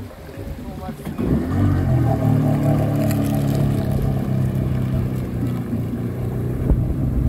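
A jet ski engine drones close by off a beach in Nungwi, Zanzibar, building as it approaches and holding a steady rumble, with wind buffeting the microphone and a voice faintly underneath.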